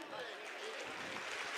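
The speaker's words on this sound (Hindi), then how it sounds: "एक बार जोरदार तालियां" Applause from the audience at a Sanatan religious conference at Karauli Shankar Mahadev Dham, greeting a guest saint, a steady broadband patter of clapping lasting throughout, moderately loud with faint crowd murmur beneath.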